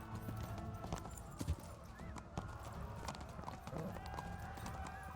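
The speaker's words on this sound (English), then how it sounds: "My horse." Horse hooves clip-clopping in the medieval role-playing game Kingdom Come: Deliverance, a steady run of hoofbeats over a dense game soundscape with a brief whinny, fairly quiet throughout.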